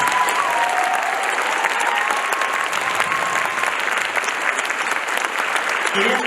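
A theatre audience applauds loudly and continuously after a fantasy stage musical performance, a dense sustained wash of clapping with faint cheers throughout.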